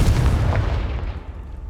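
A Confringo fire spell explodes in Hogwarts Legacy, a single loud deep boom that rumbles heavily and fades over a second or so.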